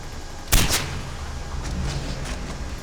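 The Shredder, a very fast-firing weapon in Far Cry 4, lets off a short burst of a couple of quick shots, followed by fainter distant reports under a steady game ambience.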